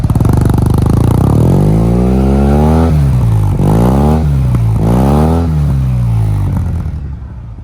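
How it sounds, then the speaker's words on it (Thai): A 2016 Yamaha TMAX 530 scooter with a Termignoni exhaust revs up loudly three times at close range, its pitch climbing and falling back between blips before the idle fades out. "ท่อเป็นท่อเทอร์มินะครับเดี๋ยวให้ฟังเสียงกันดู"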